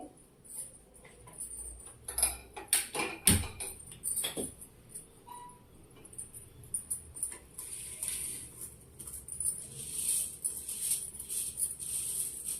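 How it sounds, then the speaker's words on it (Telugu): Jowar (sorghum) grains roasting in a pan, popping into white puffs: scattered light ticks and pops, sparse at first and then a dense crackling patter, close and fairly quiet. "ఈ జొన్నలు వేయించడమే కొంచెం ఇదండి, బాగా వేయించుకోవాలి"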